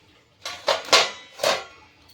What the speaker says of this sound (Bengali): ঢাকনাটা এবার তুলে নেব।